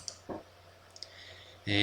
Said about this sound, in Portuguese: Basta eu dar 2 cliques com o botão esquerdo para eu abrir essa janelinha